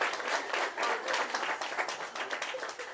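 A comedy show audience claps and applauds, a dense, steady wash of many hands sustained at even loudness throughout, without speech.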